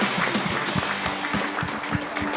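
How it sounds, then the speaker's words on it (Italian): A television sports studio breaks into applause for a colleague, a dense, steady clapping with a few louder claps and a low background hum, loud and close. "facciamo Mattia un applauso che è diventato papà"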